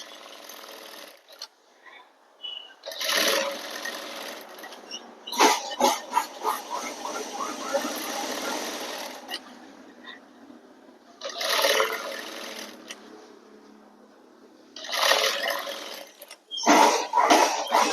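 A sewing machine runs in several separate bursts, stitching stretchable, slightly flexible shirt fabric with a whirring, rapidly pulsing mechanical sound, close and moderately loud, broken by short pauses between runs.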